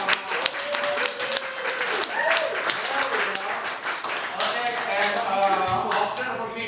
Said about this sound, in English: applaud if you get the 5x5 online